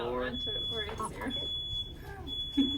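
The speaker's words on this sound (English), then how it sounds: "That sounds like microwave." A steady high-pitched electronic beep tone from a microwave oven sounds under people talking, with a louder voice near the end.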